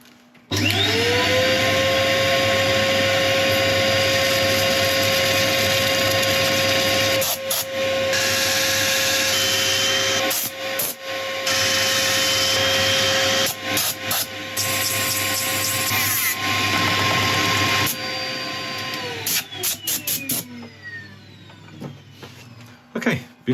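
A lathe spins a laburnum woodturning piece with a steady, loud motor hum and whine as abrasive is held against it, with brief pauses and bursts of scraping before the machine winds down near the end.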